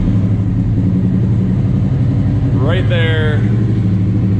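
A 2014 Yamaha R1 sport bike, rebuilt after a wreck, runs with a steady low engine drone throughout, while someone speaks briefly over it.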